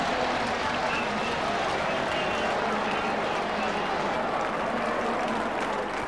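A racecourse crowd roars steadily through the finish of a horse race at Ascot, a dense, continuous wall of cheering and voices, with a commentator's voice running underneath.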